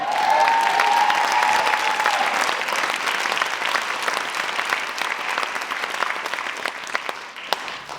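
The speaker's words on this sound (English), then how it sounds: "because we haven't heard enough applause" An audience at a documentary premiere event applauds loudly and continuously, a dense wash of many hands clapping that holds steady for several seconds with a brief tone near the start.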